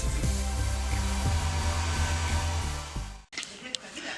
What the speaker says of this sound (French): je vais passer au sèche-cheveux pour justement la dégonfler